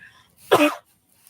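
A single short, sharp cough, close and clear, with quiet before and after.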